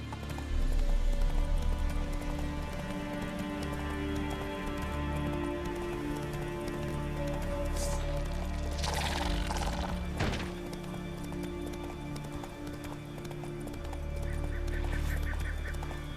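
Roach, Geralt's horse in The Witcher 3, gallops with steady rhythmic hoofbeats at close range, overlaid with game ambience and a few brief bird-like calls, with no talk.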